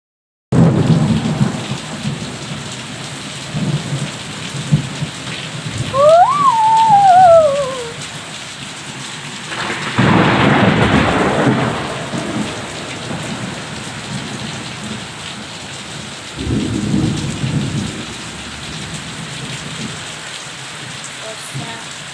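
Heavy rain pours steadily during a thunderstorm. Two deep thunder rumbles roll in, one loud near the middle and a softer one later, and a brief whistle-like tone sounds early on.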